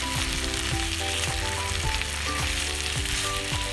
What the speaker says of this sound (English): Remember, we need to stir fry this really well